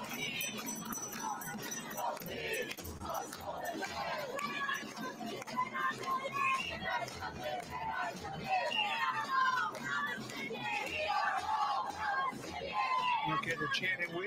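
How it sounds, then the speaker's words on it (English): Protesters massed on the Golden Gate Bridge chanting and shouting in a rhythmic, crowded babble of many voices, steady and fairly distant throughout. "they're chanting, "We are all Palestinians.""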